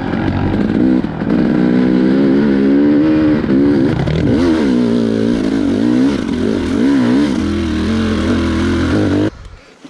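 A Honda CRF 230 dirt bike accelerates hard along a single-track trail, its engine droning loud and close for about nine seconds with rising and falling revs, then cutting off sharply near the end.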